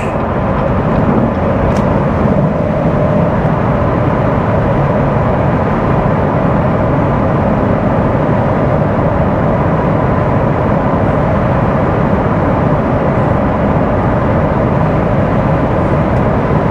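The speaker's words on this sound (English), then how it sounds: "You will get a decent amount of road noise from the tires" Steady broadband tire roar fills the cabin of a manual Chevrolet Corvette C7 Z06 on the move, a loud, continuous low rumble with no voices.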